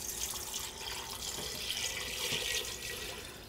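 Bean cooking liquid poured steadily into a pot of posole with bay leaves and salt, a continuous close splashing, gurgling pour that runs throughout.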